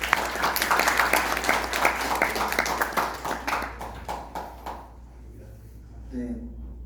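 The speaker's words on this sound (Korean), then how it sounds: "엄태웅님, 환영의 박수 부탁드립니다." Welcoming applause from an audience at an AI lecture event in a Four Seasons hotel hall, steady dense clapping for about four seconds that thins into scattered claps and fades, with a voice starting to speak at the end.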